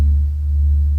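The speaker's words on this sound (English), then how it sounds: "Oh, that's the sound of the sun there." A recording presented as the sound of the sun plays as a steady deep droning hum with a low throbbing tone, continuous and loud, with no voices over it.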